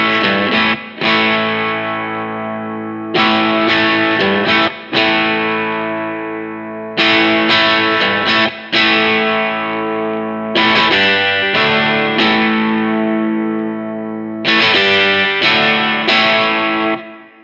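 Electric guitar played through a Keyztone Exchanger Pro pickup, heard as loud sustained chords repeated in groups with short gaps between them, heavily processed and slightly distorted while the tone shifts subtly. No talking.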